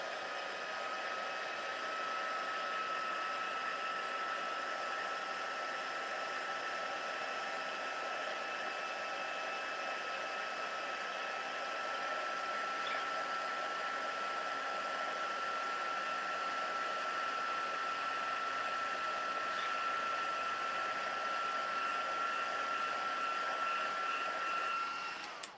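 An embossing heat tool blows hot air while Christmas cards are made, a steady close whooshing drone with a high whine that holds for the whole stretch and cuts off at the end, with no talk.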